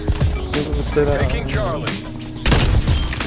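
Video game gunfire crackles in bursts under loud talk from a player, with a heavier blast near the end.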